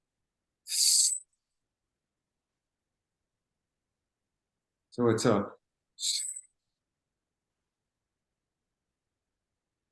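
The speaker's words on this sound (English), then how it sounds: "exhale through the mouth, expressing the air through your teeth" Two short breathy hisses of air exhaled through the teeth during a tai chi breathing exercise, with a brief spoken phrase between them, close and quiet.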